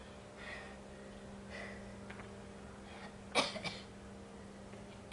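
A person exercising at home during a HIIT workout with a lingering cough gives a short burst of two or three close coughs midway, amid a quiet room hum.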